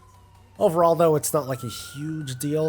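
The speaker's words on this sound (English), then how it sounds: "sorry about the sirens over there." A faint, steady siren tone wails in the background while someone talks over it.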